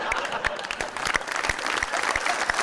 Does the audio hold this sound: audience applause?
yes